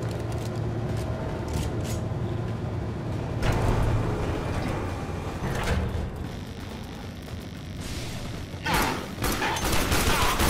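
Weapons fire in a Warframe gaming session, with rapid bursts of gunshots and volleys of fire going on almost nonstop at moderate loudness over a busy game background.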